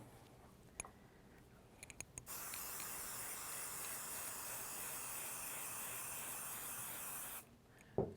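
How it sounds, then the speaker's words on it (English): A steady hiss of basting spray onto a quilt runs for about five seconds, preceded and followed by faint clicks and handling noises. "Spray a section of the quilt."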